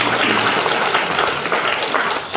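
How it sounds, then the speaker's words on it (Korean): A church congregation claps in thanks during Sunday service announcements, a short burst of loud, close, dense clapping that stays strong and then drops off at the end, with no voices over it. "감사 박수 하겠습니다."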